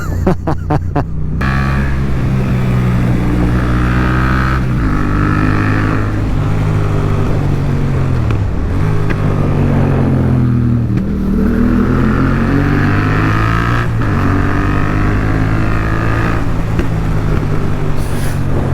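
A Mymyk Sportsmyk motorcycle engine revs up repeatedly, pitch climbing through the gears as it accelerates to 80, loud and close with steady wind noise throughout.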